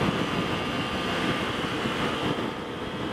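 A 2021 Aprilia Tuono V4 1100 Factory's V4 engine swells as the throttle opens while riding, a steady dense roar mixed with wind rush, continuous and loud, with no talk over it.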